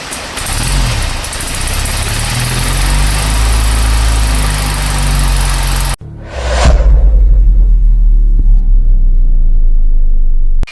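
A Hero Honda Achiever motorcycle engine runs loudly and steadily, cuts out briefly, then restarts with a whoosh and settles into a deep, continuous rumbling idle.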